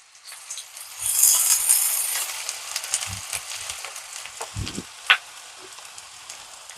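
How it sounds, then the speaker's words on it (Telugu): A cup of finely chopped onions hitting hot oil for a dhaba-style boneless chicken masala, a bright hiss and sizzle rising quickly, with a few soft scraping stirs and clinks close by. "ఆయిల్ వేడైన తర్వాత ఒక కప్పు ఉల్లిపాయలు సన్నగా తరిగానండి, ఇవి కూడా వేసేసుకున్నా."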